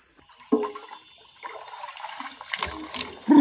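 Water splashing as someone bathes inside a wooden dugout canoe on an Amazon river, with a few separate splashes and sloshes, close and moderately loud, one sharper slosh at the end.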